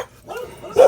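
Dogs give short, sharp barks indoors, a soft yip followed by a louder close bark within a second.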